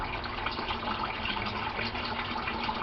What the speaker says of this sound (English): You'll see the water coming out of the pipe will slow down to a trickle